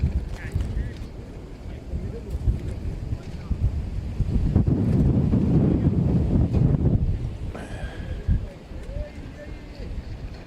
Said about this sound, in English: It's been incredibly windy this weekend.